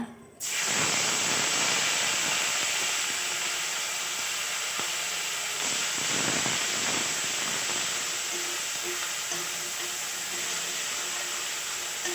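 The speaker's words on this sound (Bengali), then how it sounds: "মাথাগুলো ভাজা হয়ে গেছে দিয়ে দেব পেঁয়াজ আর রসুন বাটা" Onion and garlic paste hits hot oil with frying fish heads, setting off a loud, steady hiss and sizzle that holds strongly for about twelve seconds, close and unbroken, with no talking.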